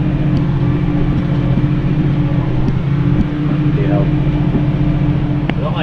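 New Holland TM190 tractor engine under foot throttle while pulling a He Va five-leg subsoiler and disc cultivator, a loud steady drone with a constant low hum throughout, a voice talking over it.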